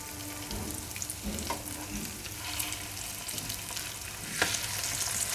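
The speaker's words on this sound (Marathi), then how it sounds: "अल्टी पलटी करून भाजून घ्यायची आहे" Corn cutlets shallow-fry in oil in a pan, a constant close sizzle broken by occasional soft knocks and scrapes as pieces are turned over.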